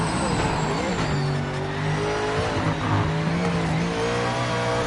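A race car in the Project Motor Racing video game roars through a lap, its engine note climbing and dropping through gear changes with some tire noise, loud and continuous.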